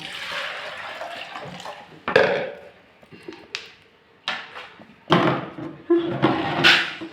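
Water is poured over stove burners for cleaning, giving uneven bursts of splashing and pouring with a few clattery knocks in between, fairly close and moderately loud.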